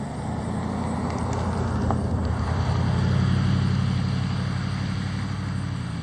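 A vehicle passes along a rural road near grazing cows, a low engine hum that swells gradually to a peak midway and then fades as it moves off, moderately distant and with no talk.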